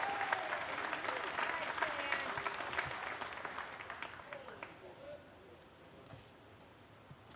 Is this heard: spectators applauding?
yes